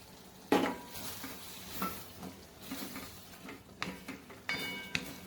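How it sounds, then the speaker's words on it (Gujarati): Moong dal and sponge gourd curry being stirred in a pan, with a steady soft sizzle and a few sharp scrapes and clinks of a spoon against the metal, close and moderately quiet, with no talking. "વચ્ચે વચ્ચે આપણે ચલાવતા રહીએ તો નીચે ચોટશે નહીં."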